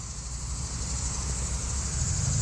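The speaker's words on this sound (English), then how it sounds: "Sun is shining, birds are chirping, cicadas are singing. I think that's a cicada." Cicadas drone in a steady, even high-pitched buzz along a sunny, lush trail, continuous and moderately distant with no voices.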